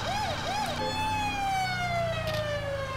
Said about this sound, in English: You want to mix the sirens sometimes to keep things fresh